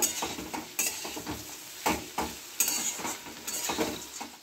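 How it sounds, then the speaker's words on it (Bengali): Potato, long beans and lentil-dumpling bori stir-fried in a pan: scraping spatula strokes recur every second or so over a soft, steady sizzle of frying, with occasional clinks against the metal pan. "একটু আলু বরবটি বড়িটাকে ভালো করে নেড়ে নেব।"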